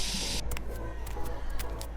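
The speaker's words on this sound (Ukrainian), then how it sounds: "Дівчинка озброюється балончиками та малює шедевр." Spray paint cans used to paint graffiti on a wall, with a loud steady hiss at the start followed by several short spray bursts in an uneven rhythm.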